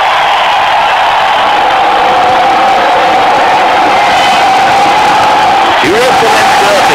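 Cricket stadium crowd in Real Cricket 2018 roars in a steady, dense wash of cheering and whoops for the full stretch, loud and continuous, with a brief swell near the end.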